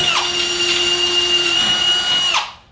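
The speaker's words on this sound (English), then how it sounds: "now I can drill through and bolt this flange in place" A power drill bores through a bonsai pot flange with a steady high whine that holds for about two seconds, then winds down and stops.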